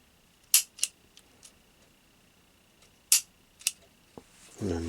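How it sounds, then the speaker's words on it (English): Trigger pulls on a cleaned M&P Bodyguard 380 pistol: sharp, close mechanical clicks, a pair near the start and another pair later with a few lighter ticks between, over quiet room tone, with a low rumble rising at the end. "there's no grit now when you pull the trigger"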